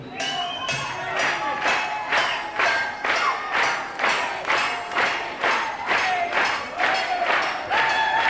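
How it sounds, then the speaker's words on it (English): A stick strikes a saucepan on stage at a 1986 concert in London, hitting out a steady rhythm of roughly two blows per second, loud and close, with the crowd clapping along underneath. "Listen, this is a saucepan. And that's a stick. I'm going to hit them together."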